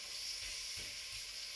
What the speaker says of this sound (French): mes petites courgettes maintenant sont en train de rissoler